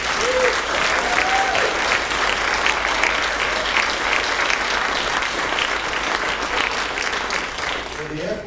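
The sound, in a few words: audience applause for the ACLU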